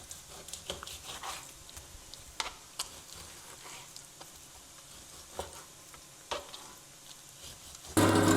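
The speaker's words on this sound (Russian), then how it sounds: "Пока обжаривается лук" Chopped onion frying in a pan, a soft steady sizzle with scattered crackles and pops at close range, then a louder burst of noise at the very end.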